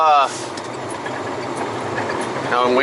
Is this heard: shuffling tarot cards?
no